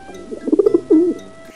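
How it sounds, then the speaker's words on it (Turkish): A pigeon coos loudly and close by, with a quick run of throaty pulses followed by one longer rolling coo, alone and without other sounds. "Güvercinler işte böyle ses çıkarır."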